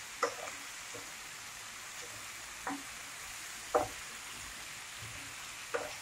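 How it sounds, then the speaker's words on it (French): Carrots caramelizing in a pan on high heat, a quiet steady sizzle with a few sharp clinks of stirring spaced through it. "Comme les carottes sont déjà cuites, nous, ce qu'on veut, c'est les faire caraméliser."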